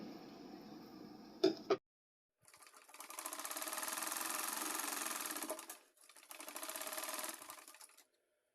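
A sewing machine stitches a blouse during an alteration, running in two sustained bursts of steady whirring after a brief handling clatter, close and fairly quiet with no talk.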